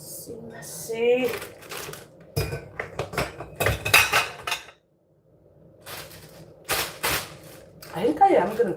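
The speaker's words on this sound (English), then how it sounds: "Just rinse these dishes off." Dishes, pots and cutlery clatter and clink in a kitchen sink while being rinsed, a run of sharp knocks and scrapes that stops briefly, then resumes, with a voice talking over parts of it.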